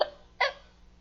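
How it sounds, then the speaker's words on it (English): A person hiccuping: two short, sharp, fairly loud hiccups about half a second apart, the first clipped at the very start, then quiet. "I have the hiccups."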